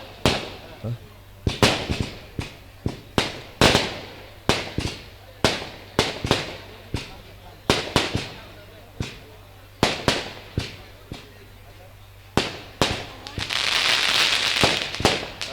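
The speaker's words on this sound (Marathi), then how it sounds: "दोन हजार चोवीसच्या इलेक्शनला फटाके वाजवायला ठेवा ना थोडेसे आताच वाजून टाकायचे" Firecrackers set off at a political gathering crack in a long series of sharp, loud bangs at irregular intervals, each one echoing briefly, with a crackling rush near the end.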